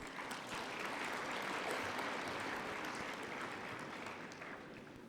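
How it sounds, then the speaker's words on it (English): An audience at the African Union Executive Council session in Kigali breaks into applause, a dense, even wash of clapping hands that carries steadily throughout at moderate distance before thinning slightly at the end. "I'd like to request a round of applause for our PRs."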